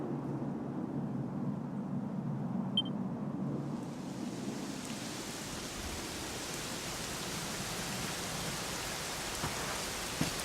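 Steady rain pours down in Dragon Quest XI, a dense even hiss that starts muffled and opens into a bright, close downpour.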